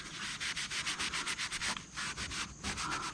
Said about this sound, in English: I'm using acetone here, but you can use an alcohol wipe. And you want to make sure that you scrub this down really good